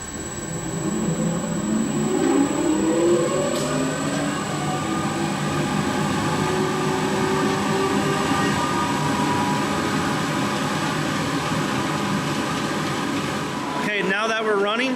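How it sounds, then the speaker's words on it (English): A Real Power 180 kVA diesel generator runs steadily with a loud, constant low rumble and mechanical drone, and a brief disturbance sounds near the end. "Okay, let's start it up."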